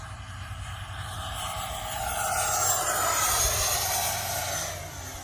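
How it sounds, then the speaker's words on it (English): A Freewing Avanti S 80mm EDF model jet makes a low, fast flyby, its ducted-fan whine swelling to a peak and then fading, with no talk over it. "We'll do a nice low, fast flyby"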